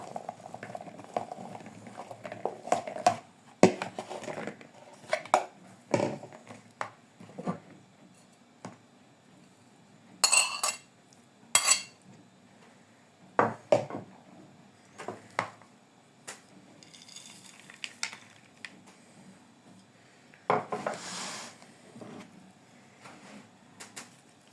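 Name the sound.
mixing chopped salad ingredients with sauce in a bowl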